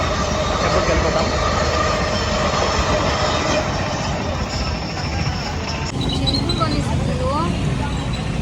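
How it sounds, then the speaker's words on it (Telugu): A train pulls into a station in South India, its loud rumble and rattling wagons steady close by, then brake squeals rising near the end as it slows; voices can be heard faintly in the background. "ట్రైన్ వచ్చింది."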